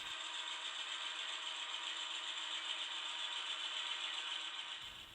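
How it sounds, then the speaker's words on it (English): Model locomotive mechanism running with its sound system switched off: a steady, even whir with a faint rubbing, grinding texture. It holds at constant level for about five seconds, then cuts off. "The locomotive runs very smoothly."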